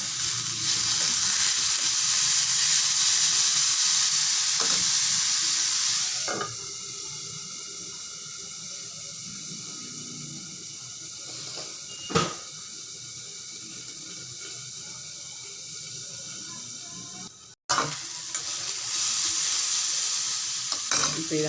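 Ivy gourd with tomato and a little coriander fries in a pan and is stirred, giving a steady loud sizzle that drops to a quieter hiss partway through, with a few brief clatters of the spoon and no talking.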